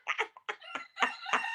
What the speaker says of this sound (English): Because he flaps his wings before he crows.